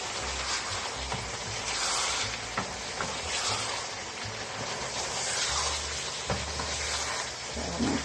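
Fried green plantain simmering in sauce in a pot, a soft continuous bubbling hiss with faint low rumbles, quiet and steady throughout.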